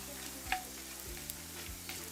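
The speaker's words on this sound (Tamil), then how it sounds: "அது பொரிக்கிறது காணும்." Fenugreek seeds frying in hot oil for a drumstick kuzhambu, a steady close sizzle with a few sharp pops and crackles spread through the short stretch.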